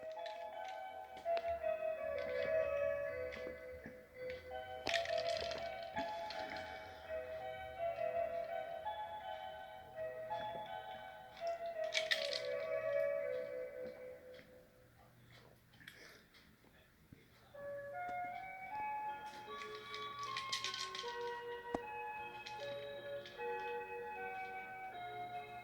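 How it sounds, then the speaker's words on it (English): A Seiko clock chimes the top of the hour indoors, its ringing melodic tones recurring in spaced phrases over about twenty-five seconds, moderately loud with a steady low hum beneath. "Oh, there goes the Seiko clock, by the way."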